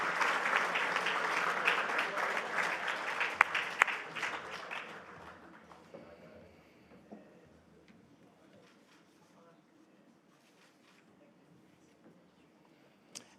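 Audience applause at an awards ceremony for community sports, loud and dense crowd clapping that fades over several seconds into a quiet room with light scattered claps.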